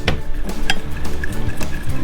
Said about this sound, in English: All right, let's give it a stir.